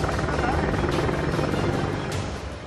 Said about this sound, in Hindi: सबसे पहले यहां से दुनिया का बेहद शक्तिशाली लड़ाकू हेलीकॉप्टर अपाचे उड़ान भरने के लिए तैयार था।